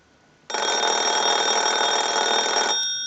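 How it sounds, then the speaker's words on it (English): Field telephone bell under repair rings continuously in a single loud, buzzing ring cycle lasting about two seconds, starting abruptly and stopping, with no talk. "send a ring cycle like you were getting a call"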